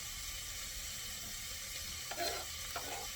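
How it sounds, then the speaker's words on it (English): A medium-sized onion sautés in a pan, giving a soft, steady sizzling hiss that stays even throughout, with a couple of faint clinks near the end. "That's just a medium-sized onion. I'll saute this for 2 minutes."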